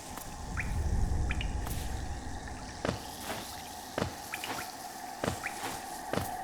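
Water in the Hollow Knight video game drips and bubbles in a steady wet bed of sound, with scattered squishy plops and sharper drip taps repeating every second or so; no voices.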